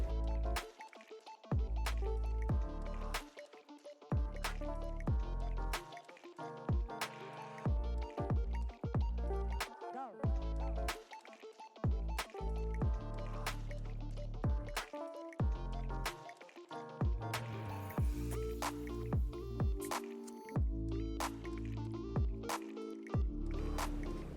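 Milani 2-in-1 Conceal and Perfect liquid foundation in two shades being mixed produces repeated wet squishing and tapping sounds, a rapid irregular series of close, soft clicks and squelches.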